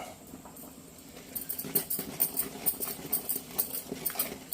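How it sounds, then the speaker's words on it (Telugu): Cooked dal is mashed in a clay pot with a wooden masher, giving a quick series of soft, rhythmic thuds and squelches close by after a quiet start. "వేడి మీదనే మనం ఇలాగా పప్పు గుత్తి పెట్టేసి ఇట్లా మెత్తగా రుబ్బితే మెత్తగా వచ్చిద్దండి"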